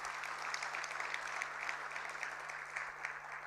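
Steady applause from a dinner audience at a budget review dinner, a dense even patter of many hands sustained throughout at moderate distance with no voices over it.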